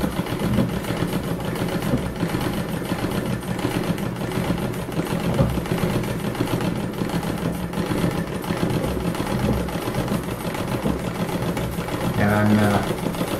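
Treadle sewing machine stitching embroidery outlines, giving a continuous even mechanical whirring and rapid needle chatter that runs throughout, with a voice speaking over it.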